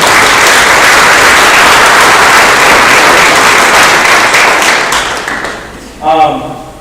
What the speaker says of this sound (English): So I would give them a big round of applause because they did a lot of things for our program.